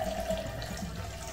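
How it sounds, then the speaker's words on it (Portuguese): Water runs steadily from a kitchen tap while liquid soap is being made from cornstarch, giving a constant close hiss and splash with no talking. "Deixa eu catar aqui na bica."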